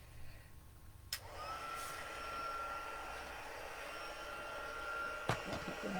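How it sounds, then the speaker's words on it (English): Steady whooshing blow of a plugged-in heat gun pushing hot air indoors, a constant moderate hiss that starts after a second and runs on, with a couple of sharp clicks. "I've got my heat gun plugged in down here."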